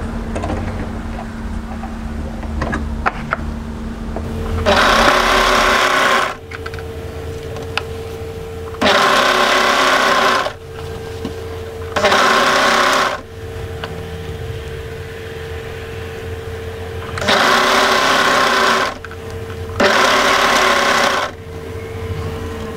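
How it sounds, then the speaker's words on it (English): An overlocker serger joins raglan hoodie pieces in five bursts of whirring stitching, each lasting one to two seconds, separated by quiet pauses, with a faint steady hum underneath. "So now it's a matter of overlocking these pieces together."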